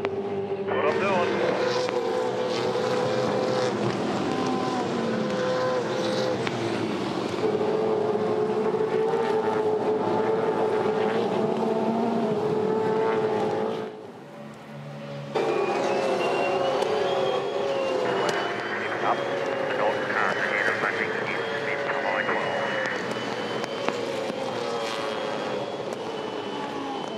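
V8 Supercars racing engines at a Super Sprint race in Darwin, a sustained loud roar of multiple cars with rising and falling engine notes passing by, with commentary talk over it.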